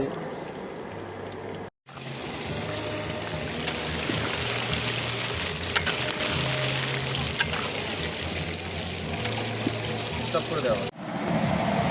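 Chicken frying in a pan gives a loud, steady hiss that runs almost without a break, cutting out briefly twice.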